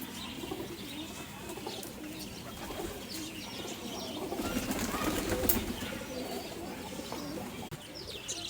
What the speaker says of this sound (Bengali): এই যে আর এক জোড়া আমার এই বাড়ির কবুতর বাচ্চা